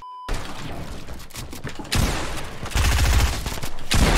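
Gunfire in Fortnite: rapid, dense bursts of automatic shots in several loud volleys, growing heavier toward the end, with no talking over them.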